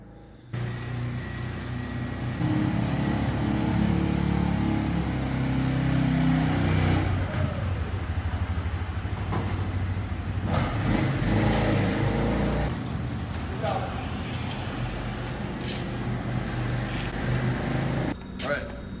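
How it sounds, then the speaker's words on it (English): An Audi car engine runs steadily at a low rumble while towing a Ford, with people talking over it throughout. "And we're pulling a Ford with an Audi."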